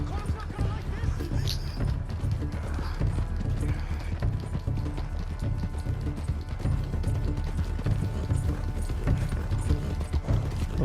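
A horse gallops in Red Dead Redemption 2 with a steady, rapid clip-clop of hooves over ground, running continuously at moderate volume beneath game sounds and some background noise.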